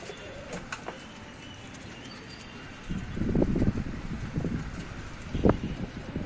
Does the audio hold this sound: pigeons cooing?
yes